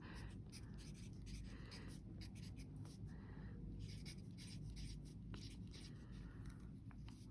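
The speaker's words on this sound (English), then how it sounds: "I just want to write out their name and then their address." A pen writes a name and address on an envelope, close but very quiet, in short bursts of scratchy strokes with small pauses between words.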